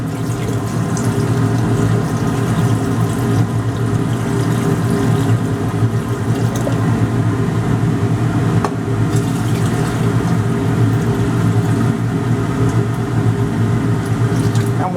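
Silver nitrate concentrate solution poured steadily into distilled water over copper for silver refining, a continuous close liquid pour with a low steady rush and no talk.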